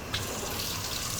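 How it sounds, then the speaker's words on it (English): Cold water runs from a kitchen tap into a container, a continuous gushing splash that holds steady and close throughout, with no voices. "Just fill it with cold water."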